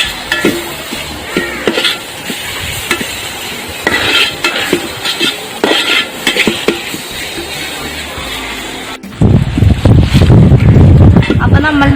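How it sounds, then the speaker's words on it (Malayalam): A spatula stirs duck masala with turmeric and finely chopped tomato in a pan, giving repeated scraping and clanking strokes, then a louder burst of sizzling and scraping near the end. "ഇനി ഒരു ചെറിയ തക്കാളി നൈസായിട്ട് അരിഞ്ഞതും ചേർത്ത് നന്നായിട്ട് നമുക്ക് മിക്സ് ചെയ്യാം"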